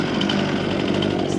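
Chainsaw cutting through a fence board during fence building, a loud close steady buzzing whine with gritty wood-cutting texture throughout, no talk.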